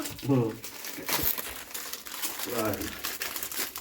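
Paper crinkles and rustles up close while people talk over it during Maggi noodle cooking.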